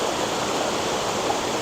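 Lower Mill Gill Waterfall, flowing water falling in a steady, dense rushing wash that stays even and close throughout, no voices.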